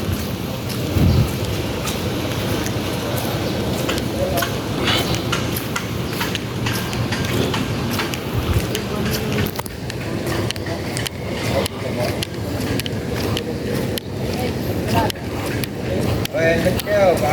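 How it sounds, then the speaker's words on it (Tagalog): Steady rain patters outdoors on a school campus, a continuous hiss that stays constant throughout, with occasional people talking underneath. "Ulan."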